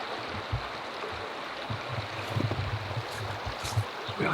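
A wooded Pennsylvania creek flows steadily with a soft, continuous rush and gurgle, heard close and alone, with a few low thumps.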